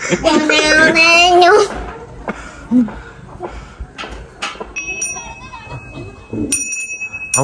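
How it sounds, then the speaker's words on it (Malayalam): A bell is rung with clear, sustained metallic tones that come in later, under and between people talking loudly nearby. "മണി മണിയടിക്കാൻ വിദഗ്ധനാണ് അവൻ"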